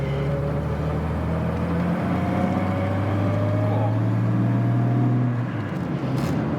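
A Jaguar E-Type engine drones steadily from inside the cabin, its pitch rising as it pulls through a gear, loud and continuous.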